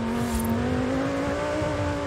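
A racing car engine in Forza Horizon 5 roars at a steady high pitch throughout, loud and close, with a constant droning tone and no talking.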